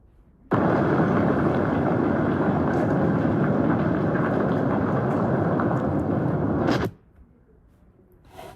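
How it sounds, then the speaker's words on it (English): A volcano erupting as a loud, continuous rumbling roar of noise that holds steady for about six seconds, then cuts off abruptly. "If you guessed a volcano, you would be right."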